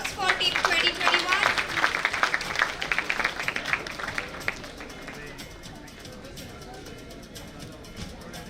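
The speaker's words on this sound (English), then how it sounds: "Big round of applause for Team 2021." Conference audience at a national CA students' event applauds for Team 2021, a burst of dense clapping that is loudest at first, then thins and fades to a faint murmur of the crowd.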